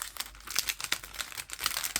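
Close, irregular crinkling and rustling as paper packaging is handled to take out stickers, in quick bursts of varying loudness.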